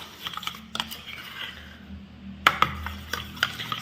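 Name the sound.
stirring henna paste with water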